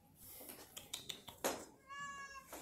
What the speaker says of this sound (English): my cat's in here too.